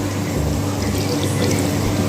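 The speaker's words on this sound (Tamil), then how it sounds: "இப்போ கொஞ்சமாக தண்ணி சேர்த்து" Water from a tap pours steadily into powdered jaggery to dissolve it while cooking thoppam, a continuous close splashing, gurgling flow with no voices.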